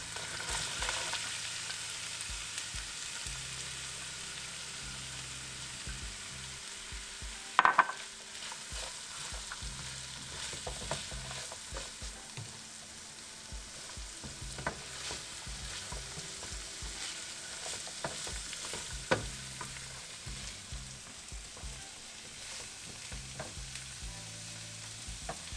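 Chopped onion sizzles in a pan with ginger garlic paste for dhaba-style dal tadka. The steady frying hiss runs throughout, broken by scraping stirs and one sharp utensil clank.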